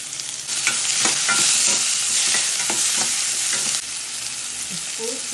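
Onions, tomato, green chillies and curry leaves sauté in a pan, a steady broadband sizzle with repeated stirring scrapes, close and fairly loud, easing slightly near the end.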